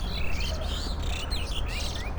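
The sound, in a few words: birds singing outdoors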